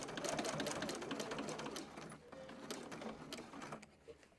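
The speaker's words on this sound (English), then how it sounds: "I'm sewing all the way across my little piece of ribbon or strap" A domestic sewing machine stitches across a ribbon strap loop on fabric, a close, quiet, rapid mechanical whirring that runs steadily and then slows and softens toward the end.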